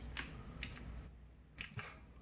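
A few sparse, soft clicks of keys pressed on an AUKEY RGB mechanical keyboard, faint and irregularly spaced in a quiet room.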